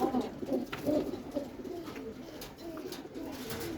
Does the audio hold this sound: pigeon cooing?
yes